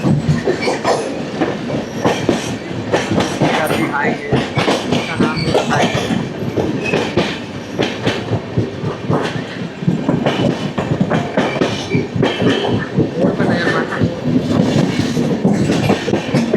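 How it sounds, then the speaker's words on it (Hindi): The North East Express, a passenger train running from Kamakhya to Anand Vihar, rolls past loud and close with steady rumbling, rhythmic clickety-clack of wheels over rail joints and occasional squeals, continuous throughout. "कामाख्या से चलकर आनंद विहार को जाने वाली ट्रेन नॉर्थ ईस्ट एक्सप्रेस"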